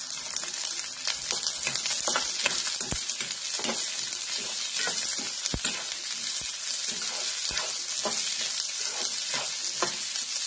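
Peeled val beans tossed into onions frying in a pan, a steady dense sizzle throughout with frequent soft stirring scrapes and clicks, close and fairly loud.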